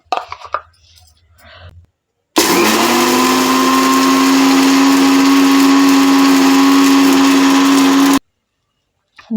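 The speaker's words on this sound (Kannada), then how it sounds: "ಅದ್ರೊಳಗೆ ನಾವು ಏಲಕ್ಕಿ ಮತ್ತು ಸಕ್ಕರೆ ಎರಡೂ ಹಾಕಿ ಪುಡಿ ಮಾಡ್ಕೊತಾ ಇದ್ದೀನಿ" A mixer grinder whirs steadily as it powders cardamom and sugar, starting abruptly after a quiet stretch, running loud and even for about six seconds, then cutting off.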